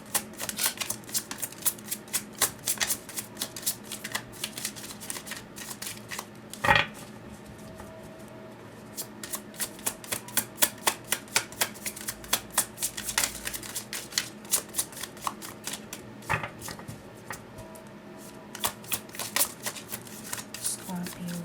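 Slippery tarot cards being shuffled at close range, a steady run of quick riffling clicks and soft slaps with a couple of sharper card snaps, while a person talks now and then over the handling.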